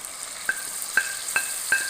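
Beef and onions fry in a karahi with a steady sizzle, broken by four sharp spoon clinks against the pan as the meat is stirred, close and moderately loud.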